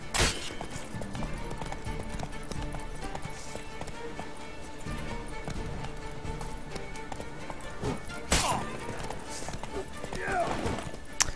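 Horse hooves clip-clop in The Witcher 3 open-world video game, a steady trotting patter under in-game ambience and a voice talking, with a few louder thumps and clatter near the end.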